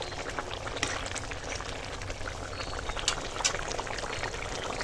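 Fish curry with spinach simmering in a pan, a steady close bubbling and sizzling hiss with small pops throughout, no talk.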